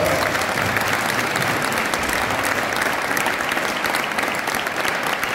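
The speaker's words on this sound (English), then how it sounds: "Let's give him a round of applause." An audience gives a round of applause after a nativity play, steady dense clapping from a large crowd, loud and unbroken throughout.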